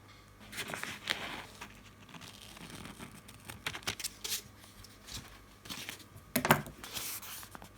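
Paper is snipped and rustled close up as small squares are cut out for a miniature box. Quiet scissor cuts and crinkles come in irregular bursts.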